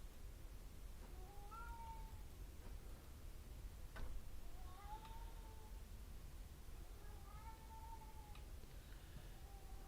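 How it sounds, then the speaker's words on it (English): A cat meows several times in a row, each call a short rising-falling cry at moderate distance, repeated with gaps over steady background noise and a brief knock in the middle. "meow, meow."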